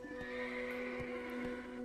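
A tier 10 horse in the video game Black Desert whinnies in one long, clear, tonal neigh, with soft hoof clops ticking beneath it, fairly quiet and alone.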